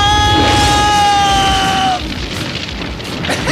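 Car explosion effect in a German radio drama: a loud boom with a falling tonal whine that cuts off into a rumbling, crackling burst of debris that fades.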